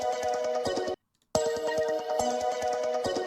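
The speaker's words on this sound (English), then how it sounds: "This is actually like phone alarms from like 2008." An old 2008-style phone alarm tone rings out as a repeating melodic pattern, stops abruptly for a moment, then resumes just as clearly.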